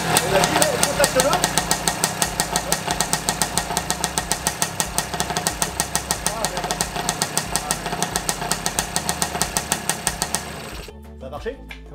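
A Yamaha DT motorbike engine starts and keeps running with a loud, close, rapid two-stroke putter, then cuts off abruptly near the end.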